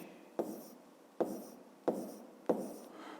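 Pen or chalk strokes writing numbers by hand during a fifth-grade maths exercise, four short scratchy bursts at a steady rhythm, close and fairly quiet, with no talk.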